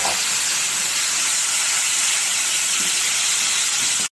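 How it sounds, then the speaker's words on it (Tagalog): Chicken breast cooking in a hot pan, giving a loud, steady, bright hiss of sizzling that runs unbroken to the end with no talking. "At lulutuin ko ang aking chicken breast."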